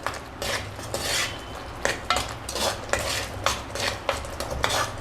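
A spoon stirs chicken leg gravy in a pan, giving close, continuous scraping and clinking strokes in a steady rhythm over a soft bubbling sizzle.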